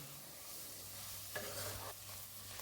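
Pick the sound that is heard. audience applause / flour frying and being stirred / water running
flour frying and being stirred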